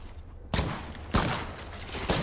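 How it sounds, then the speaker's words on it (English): Gunfire aimed at the player in a video game, three heavy bursts of shots in quick succession, loud and close, with no talk over them. "Listen up, I'm getting shot at."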